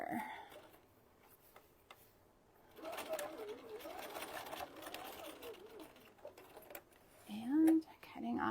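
Sewing machine stitching a fabric chicken wing, a quiet rapid mechanical rattle in short bursts, close by and soft, with someone speaking at times.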